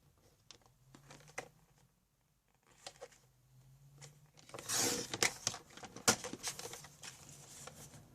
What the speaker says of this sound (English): I'm just going to trim off this edge here